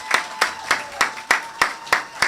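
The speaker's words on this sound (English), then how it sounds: "please give them another round of applause" An audience at an alumni day gathering claps in a steady, even rhythm of sharp, fairly close beats, with no voices over it.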